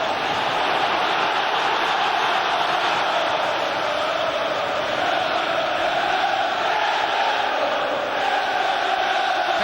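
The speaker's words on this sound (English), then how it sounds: "Better effort from the crowd now." Dense, steady roar of a large football crowd at a Liverpool versus Sunderland Premier League match at Anfield, a continuous wash of voices and chanting at loud, even level throughout with no distinct commentary on top.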